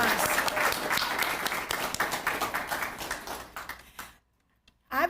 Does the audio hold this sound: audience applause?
yes